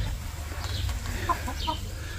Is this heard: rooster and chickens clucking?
yes